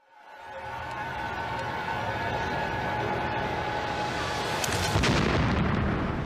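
A grenade blast opens into a long, rumbling roar that swells and holds for several seconds, with a sharper crack and burst near the end, loud and close.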